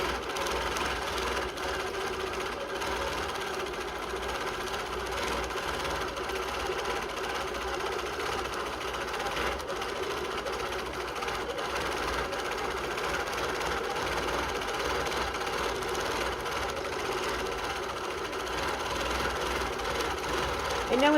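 Domestic sewing machine quilting a meandering stitch through a layered fabric placemat, running as a steady, continuous mechanical whir and rapid needle chatter for the whole stretch, close and even in level.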